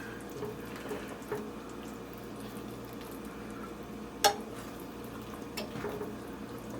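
A spoon stirs shepherd's pie filling in a pan, a low, wet bubbling simmer with soft scraping and a few brief clinks, steady and fairly quiet with no voices.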